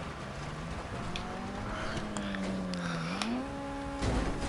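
Video game car driving over jumps and landing, a steady engine drone with shifting pitch, light thumps and a heavier bump near the end, no talking.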